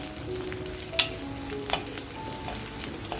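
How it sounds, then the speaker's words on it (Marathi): Chillies roast in a pan for chicken kharda, a steady, close frying sizzle with a few sharp pops and crackles and light stirring scrapes. "म्हणजे मिरची आपली छान खमंग भाजली गेली आहे।"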